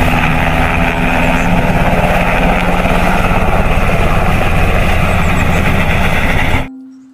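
A toy army helicopter whirs with a steady, loud rotor buzz for several seconds, then cuts off abruptly.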